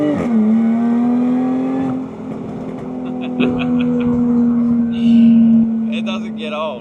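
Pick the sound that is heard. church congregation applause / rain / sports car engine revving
sports car engine revving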